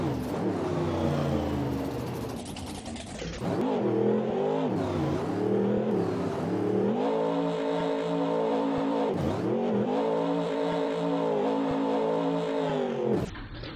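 A car engine in a video-game driving scene, heard from the cockpit view. It drones loudly and steadily, its pitch rising and dropping sharply as the car shifts gears and changes speed.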